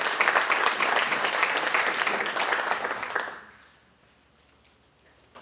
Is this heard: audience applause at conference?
yes